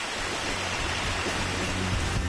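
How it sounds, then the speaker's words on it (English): Loud rushing water in the video game Star Ocean: Till the End of Time, a dense, steady roar like a waterfall that fills the whole short stretch without pause. "That is some loud water."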